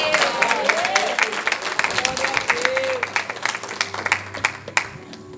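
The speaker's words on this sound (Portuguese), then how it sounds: "Aplauda Jesus." A church congregation applauding steadily, a dense patter of many hands with voices calling out over it, fading toward the end.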